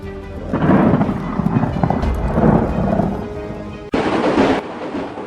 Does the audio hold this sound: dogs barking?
no